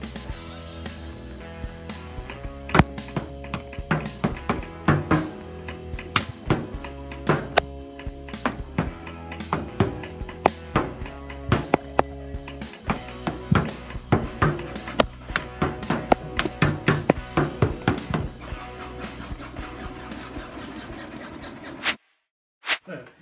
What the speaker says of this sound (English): final test is 40 feet, which is actually from behind the table, so I'm going to shoot it all at the camera